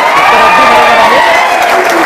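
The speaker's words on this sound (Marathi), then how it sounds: "तर मग जोरदार टाळ्या होऊ द्या मित्रांनो." An audience in an academy classroom breaks into loud applause and cheering, a dense wash of clapping and voices close by that holds steady for about two seconds.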